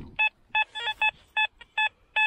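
A metal detector's signal tone sounds as a row of about seven short, evenly spaced electronic beeps, clear and close, each a stacked pitched tone over faint outdoor background noise.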